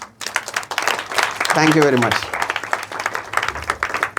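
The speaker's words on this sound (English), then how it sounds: "Clap for the three of them." An audience at a motivational talk claps throughout, irregular hand claps running under a voice speaking briefly in the middle.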